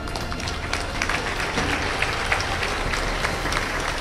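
Church congregation clapping at a mass prayer service, dense continuous applause filling the room at moderate loudness with a faint voice underneath.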